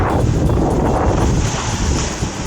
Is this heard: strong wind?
yes